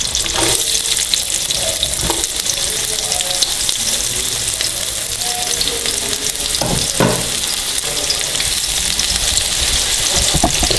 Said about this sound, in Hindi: इनको गोल्डन ब्राउन होने तक हम फ्राई करेंगे।